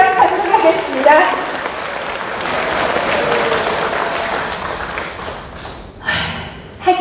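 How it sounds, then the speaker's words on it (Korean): An audience at a Kyungsung Pharmaceutical success seminar applauds to welcome the next speaker, a sustained, moderately loud round of clapping mixed with crowd murmur and voices that tapers off near the end. "큰 박수로 맞이해 주신다면 시작하도록 하겠습니다"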